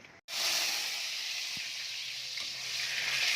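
Food sizzles steadily in a very hot pan (kawali) while cooking beef puchero, a continuous loud hiss holding evenly after a brief break near the start.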